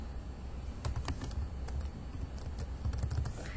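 Fingers tap a class ID number into a computer keyboard in a quick, steady run of light clicking keystrokes, close and fairly quiet over faint room hiss.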